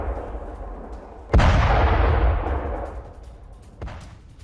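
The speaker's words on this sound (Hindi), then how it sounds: "कई किलोमीटर दूर तक धमाके की आवाज सुनी गई।" A deep, booming explosion in Beit Shemesh erupts suddenly and rumbles on for a couple of seconds, followed by a second, fainter thud; no voices.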